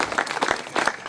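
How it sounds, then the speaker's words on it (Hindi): A short burst of enthusiastic audience applause at a poetry recital, dense clapping close by. "एक बार जोरदार तालियां बजा दीजिए"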